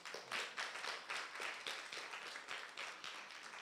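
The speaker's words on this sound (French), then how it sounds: "Félicitations à vous, vous pouvez vous applaudir." Children and parents at a church children's weekend applaud together, a brisk, steady burst of many hands clapping that carries on for several seconds, moderately loud and without talk.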